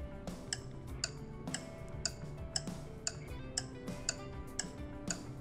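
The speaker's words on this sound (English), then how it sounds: "that noise was a clock ticking" A clock's steady tick-tock plays back through a phone speaker, with crisp, evenly spaced ticks repeating at a brisk pace over a faint background hum.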